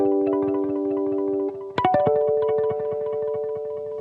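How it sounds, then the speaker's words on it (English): Electric guitar played through a Strymon El Capistan tape delay pedal, clean sustained chords with soft repeating echoes trailing behind, a brighter strum near the middle, steady and close with no talking. "I have the El Capistan delay from Strymon,"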